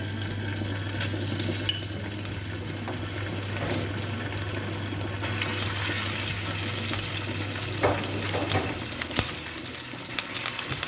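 Garlic ginger paste frying in hot oil in a pan, a steady close crackle and sizzle with occasional stirring clatters and a low hum underneath.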